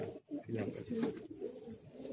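Pigeons of the Kolkata high-flying Madrasi breed coo softly and continuously in a loft, layered low murmuring calls with a short break near the start, fairly close.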